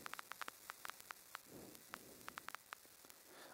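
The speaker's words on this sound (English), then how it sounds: "First, I load up a trigger sound, in this case, vinyl distortion." Vinyl distortion used as a trigger sound effect: very quiet crackle and hiss with sharp, irregular pops and clicks scattered over a faint steady hum.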